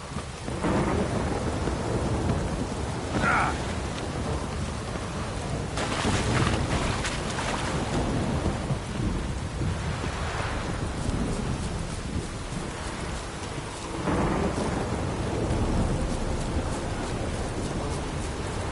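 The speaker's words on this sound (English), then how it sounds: "This downpour's a bastard" Heavy rain pours steadily throughout, with rolling rumbles of thunder swelling and fading in the background, in the video game The Witcher 3.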